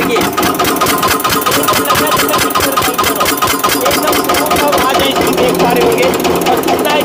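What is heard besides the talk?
Eicher diesel engine running after self start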